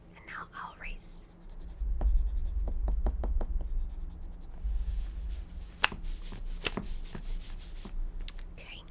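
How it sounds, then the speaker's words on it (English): Pencil eraser rubbing across a drawing on paper, close and soft, with a series of quick scrubbing strokes and scratchy taps in irregular rhythm, under faint whispered speech. "And now I'll erase."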